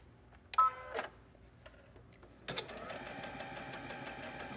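A Brother sewing machine stitches with a twin needle, a few beeps and clicks first, then a steady close whirring run of stitching starting midway.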